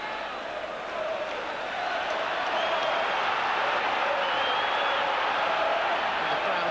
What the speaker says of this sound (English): And the crowd seems to have responded to that as well.